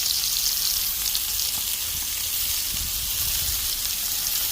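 Burgers and hot dogs sizzle on a hot griddle in a dense, steady crackling hiss that runs unbroken and fairly loud, close up, with no voices.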